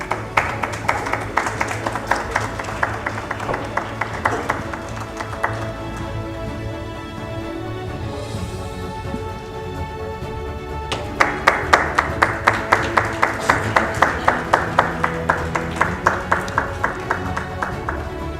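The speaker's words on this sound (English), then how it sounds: "Please give a big round of applause." Audience applause at a 2025 graduation ceremony in Bangkok, a steady crowd clapping under music with a sustained tonal backdrop, fading midway and swelling again into rhythmic, fairly loud claps.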